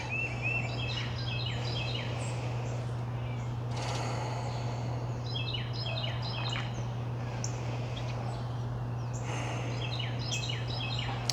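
Birds call repeatedly outdoors in spring, in short chirping bursts over a steady low hum, faint and somewhat distant, with a crow-like caw among them.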